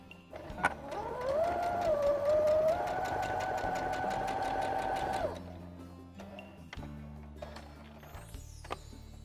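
A sewing machine stitches the bottom seam of a small girl's bag, running in a fast, even chatter with a rising motor whine for about five seconds before stopping, followed by faint handling clicks.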